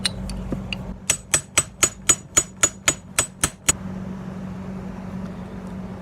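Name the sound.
hammering a wedge to free a stuck part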